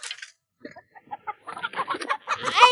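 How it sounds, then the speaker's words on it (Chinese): Farm chickens cluck and squawk in agitated bursts as they are being caught, the calls growing louder and denser toward the end, with close, excited fowl cries and no clear talk. "我们来给你们抓鸡来了，你看好哈，你要哪一只？"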